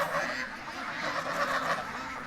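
Several geese give loud, overlapping nasal honks that carry on steadily without a break, close by and growing as the flock comes nearer.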